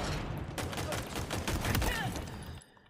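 A Skewer gun firing in a video game, a rapid burst of sharp cracking shots in quick succession over a couple of seconds, loud and close, ending abruptly.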